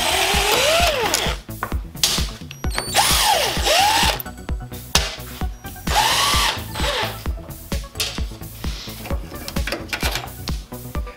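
Power driver backing out screws from the headlight bezel of a Jeep Wrangler YJ, several close whirring bursts with rising and falling motor pitch, separated by brief pauses and clicks, no talk.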